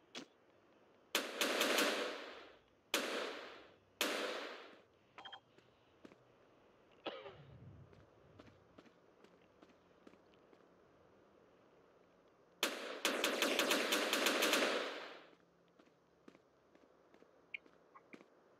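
Gunfire in an Ultraman Taiga video game: several loud, rapid bursts of automatic fire, short volleys separated by quieter stretches of scattered clicks and thuds, ending with one longer sustained burst.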